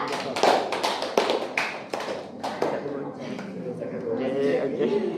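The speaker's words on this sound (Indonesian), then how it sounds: "beri aplaus untuk kelompok 2" Brief scattered clapping from a small classroom audience applauding a student presentation group, a few sharp claps at the start fading into room murmur and talk.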